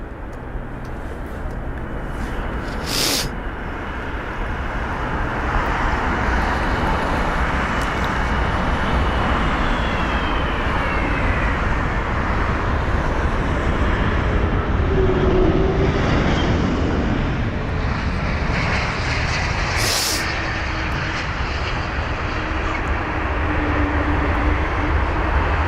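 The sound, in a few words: United Boeing 777-200ER landing on runway 27 right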